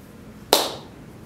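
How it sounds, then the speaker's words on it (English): A single sharp hand clap rings out once, crisp and close, then fades quickly into quiet. "How about a clap?"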